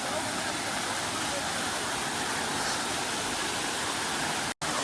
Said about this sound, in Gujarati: થોડું થોડું પાણી આવે છે